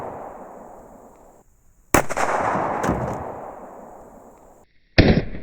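Pistol shots fired through wallboard into a cheese can during a Polycase ARX 45 ACP and 9mm penetration test: two loud, sharp reports a few seconds apart, each with a long decaying ring and echo.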